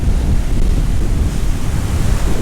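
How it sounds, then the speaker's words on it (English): Strong ocean surf at Mazatlan beach in Mexico, a loud continuous rushing wash of breaking waves mixed with wind buffeting the microphone. "Waves are pretty strong today."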